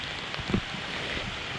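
Steady rain falls outdoors, a dense, even patter of drops hitting surfaces at close range with no voices, one slightly louder tap standing out midway.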